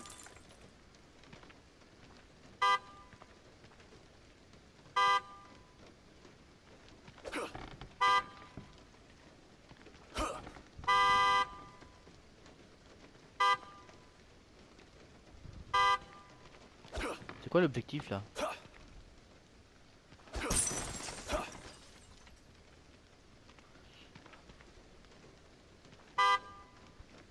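A car horn gets short honks in The Evil Within 2, several brief toots spaced through the stretch beside a run-down house, with someone talking between them and other game noises.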